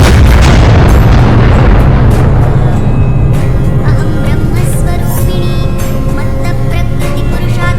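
A loud, deep video game explosion booms, rumbling and rolling on, leaving a dense roaring wash of sound that slowly settles over several seconds.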